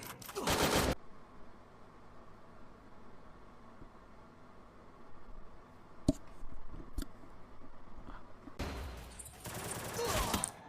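Rapid automatic gunfire in the mobile shooter Free Fire Max comes in two dense bursts, one at the start and a longer one at the end, separated by quieter game ambience with a few single shots.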